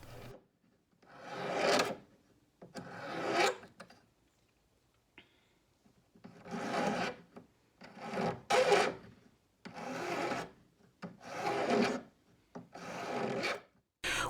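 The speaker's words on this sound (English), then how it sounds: "then you will need to file a rounded edge at the point so it is not sharp" Brass earring piece being filed to a rounded edge with a hand file, giving repeated close rasping strokes in bursts of about a second, separated by short pauses.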